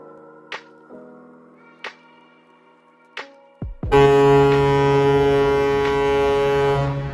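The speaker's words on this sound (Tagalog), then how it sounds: "Yung barko, bumubusina, baka may tumawid." A loud, deep ship horn blasts and holds steadily for several seconds after a few sharp knocks, booming and sustained, heard from the shore by the sea.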